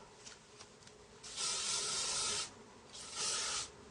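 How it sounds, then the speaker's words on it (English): Two bursts of hairspray from an aerosol can, the first about a second long and the second shorter, loud and close, with faint rustling between them. "Obviously, spray it with some hairspray."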